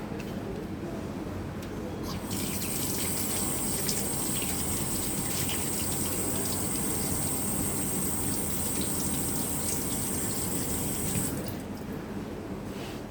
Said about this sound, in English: This is my hand washing procedure.